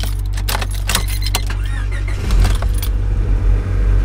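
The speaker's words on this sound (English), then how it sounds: "let's turn on the car" A Honda Civic is started up close after a jangle of keys and a few clicks, the engine catching and settling into a loud steady idle.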